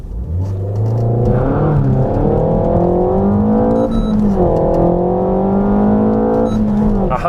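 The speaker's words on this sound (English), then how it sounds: "this is really not going to be the best acceleration" A 2019 Renault Megane RS Trophy with a manual gearbox accelerates hard on a slippery, pebbly road, its engine note rising steadily and loudly through the gears with a brief dip at a shift, heard from inside the car.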